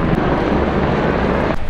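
A helicopter flies over a mountain pilgrimage route to the Amarnath cave, a loud, continuous rotor and engine roar with wind buffeting, steady from start to finish and with no voices.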